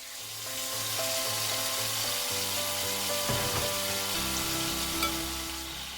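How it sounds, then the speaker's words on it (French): Chicken sizzles in hot oil in a wok, a continuous crackling fry with a few stirring scrapes, heard beneath quiet background music. "Mettez le poulet dans le même wok."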